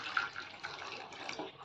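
Water poured from a cup onto grated jaggery, a steady soft splashing trickle heard close and alone, without talk.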